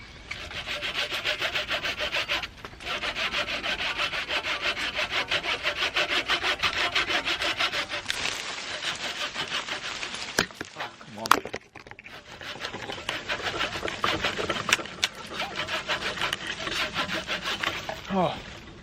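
Handsaw cutting through a tree branch on an allotment, a fast rhythmic rasp of back-and-forth strokes, loud and close, briefly pausing midway before resuming, with a few faint words nearby.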